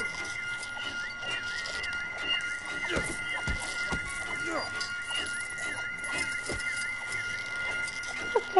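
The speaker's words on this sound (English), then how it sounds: "Look at all those chickens." Chickens clucking in the Lego DC Super-Villains video game, scattered short clucks over a steady game soundscape, with someone talking throughout.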